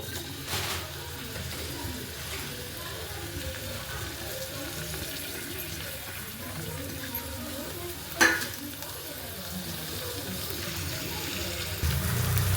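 Chopped potato, capsicum and onion fry together in hot oil, a steady, low sizzle with a few faint stirring scrapes that runs quietly throughout.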